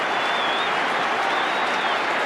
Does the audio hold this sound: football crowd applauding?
yes